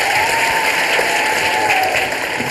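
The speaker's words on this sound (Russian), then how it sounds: "Аплодисменты" Studio audience at a Russian comedy show breaks into sustained, dense applause, a loud even wash of clapping that carries steadily from start to finish.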